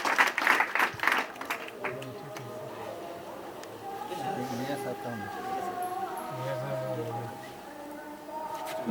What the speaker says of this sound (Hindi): आप लोग तालियों के साथ स्वागत करें हमारे दोनों अतिथियों का।